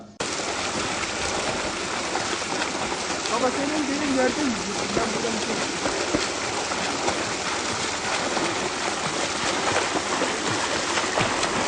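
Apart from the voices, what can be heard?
cold mountain stream, Bulanık Deresi, flowing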